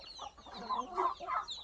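Farm chickens cluck in a series of short, nasal calls that rise and fall, several birds near and fairly clear, with no talking.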